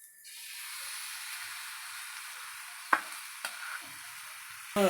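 Ground lentil paste going into a hot frying pan for a home-made curry, a steady soft sizzle with a few sharp clinks and scrapes of stirring near the end.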